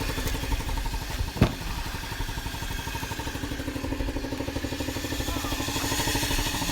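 A small Chinese scooter engine idles steadily with a fast, even putter, close by, with one sharp click partway through.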